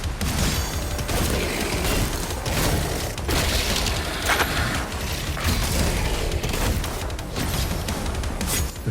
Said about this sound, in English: The sounds of the demons exploding, the heavy metal beat that just ramping through your soul.